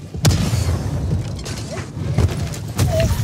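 An armor-piercing support weapon fires in Helldivers 2 during a fight with bugs. Several sharp, heavy booms ring out at intervals over a steady mechanical rumble, loud and close, with faint metallic creaks between the shots.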